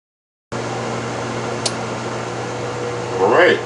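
A Ninja Combi all-in-one cooker preheating gives a steady close fan-like whir and hum after the start press, with a brief click partway through and a rising rush of air near the end.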